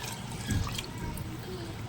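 Water is poured into a cooking pot for basmati rice biryani, a soft trickling splash heard faintly and steadily throughout, close by with a light thump near the start.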